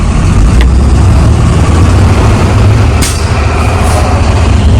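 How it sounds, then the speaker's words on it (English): A heavy diesel truck engine idles loudly and steadily up close while building air brake pressure, with a brief hiss of air partway through. "Now I start the engine and build a pressure."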